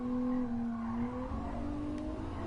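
Race car engine in a racing video game, a GT-R on an unfamiliar circuit, holding a steady high drone with rising pitch and faint tire noise, continuous and fairly quiet without talk.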